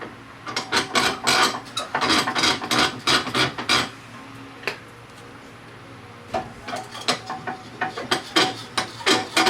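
Wrench work on a motorized bicycle's front axle nut: repeated close metallic ratcheting and scraping clicks in bursts, a quieter pause in the middle, then more rapid clicking.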